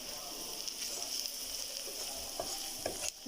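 Green chilies and a teaspoon of chili powder fry in a pan with onions, giving a steady close sizzle broken by a few sharp scrapes of stirring, with no voices.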